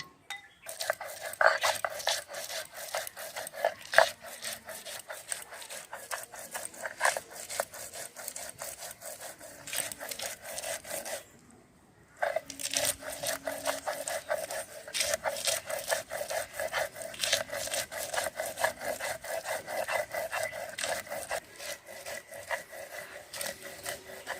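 Ginger, garlic, onion and chili ground on a grinding stone, a steady rasping scrape repeating in quick strokes for the whole stretch, with a brief pause midway.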